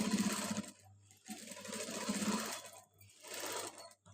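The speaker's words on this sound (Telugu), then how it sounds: "మనం ఇలాగా పెట్టి ఇలా స్టిచ్ చేయాలి" A sewing machine stitches fabric in three short bursts, a close buzzing whir that starts and stops with brief quiet gaps between runs, fairly soft and with no voices.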